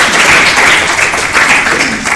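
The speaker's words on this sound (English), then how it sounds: "Yes, applause for them." Audience applause at the Holloway Poetry Series reading, a steady, dense wash of clapping that holds loud and close for the full length, without voices.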